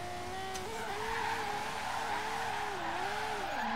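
A 545 hp Nissan R33 GT-R drift build with an RB26DETT engine, driven in the racing game Forza Horizon 3, screeches its tyres in a sustained skid while the engine note wavers up and down, loud and close throughout.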